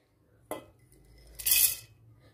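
Soaked chana dal being tipped into a grinder jar: a sharp clatter near the half-second mark followed by a brighter, longer rattle of the dal and jar a second later, close and fairly loud over quiet kitchen background.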